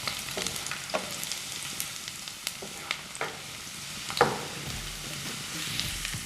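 Garlic sizzling in a hot pan for Maggi Manchurian, a steady frying hiss broken by a few scattered stirring scrapes and taps, close and moderately loud with no talking.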